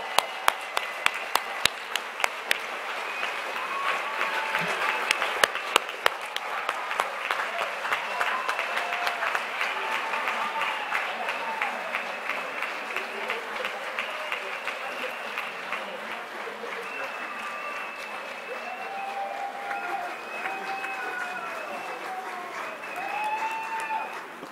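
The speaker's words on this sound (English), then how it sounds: "Please give a big round of applause for our doctoral candidate," Audience applause for doctoral psychology graduates at a university commencement, sustained clapping from a crowd with a few sharp close claps, continuing under a speaking voice and scattered cheers, gradually tapering.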